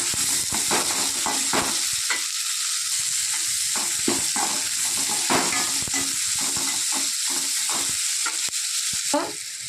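Three medium tomatoes sauté in a pan for Tamil mutton curry, giving a steady close sizzle broken by frequent scraping stirs, with no talking.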